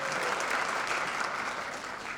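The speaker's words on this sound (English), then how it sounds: "little round of applause." Audience applause at a middle school eighth grade parent night, a steady dense wash of clapping from a seated crowd that continues evenly from start to end without speech.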